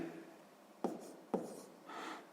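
A pen writing numbers by hand on paper, faint scratchy strokes with two sharp taps of the pen touching down between them, close and quiet.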